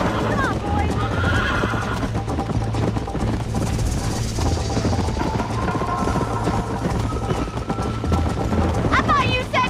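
Horses in the Red Dead Redemption video game gallop with steady clip-clop hoofbeats and give loud whinnies near the end, under a constant music and effects bed with voices talking.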